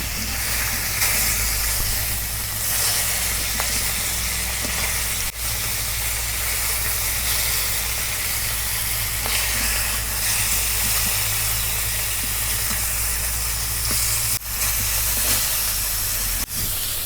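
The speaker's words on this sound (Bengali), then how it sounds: "মাছ এক পিঠ ভাজা হচ্ছে, আর এক পিঠ ভাজবা নিয়ে উল্টে দিই।" Silver carp pieces frying in a little hot oil in a wok, giving a steady, loud hiss and sizzle that runs unbroken throughout, with a few faint clicks of the pan.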